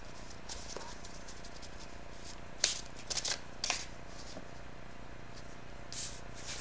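Tarot cards being shuffled and drawn, soft papery riffles and a few quick sharp flicks in short clusters, close and fairly quiet over a faint room hiss, with no talking.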